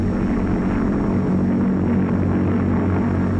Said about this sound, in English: as the plane approaches the field, it slows down for the landing